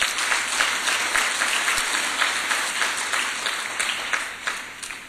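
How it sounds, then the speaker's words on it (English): A round of applause for the municipality at an economic summit forum: steady, moderately loud clapping from a seated audience, slowly tapering over several seconds with a few sharper individual claps standing out. "the municipality deserves a round of applause"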